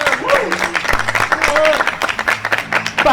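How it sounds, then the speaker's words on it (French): A crowd claps loudly at a live French quiz-boxing show, the broadband applause running throughout alongside cheering voices and some talk. "Vous pouvez vous applaudir."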